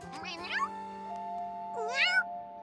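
A cartoon cat from a Danish children's animated series gives two drawn-out, wavering meows about a second apart, set over sustained musical tones.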